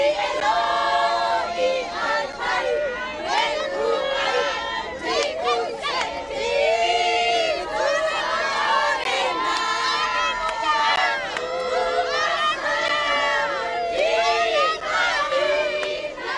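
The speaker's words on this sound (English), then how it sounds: "we saw incredible scenes of Namibians cheering outside court" A crowd of Namibians cheers and shouts outside a courthouse after a corruption verdict, with loud, dense voices, whoops and chanting continuing throughout.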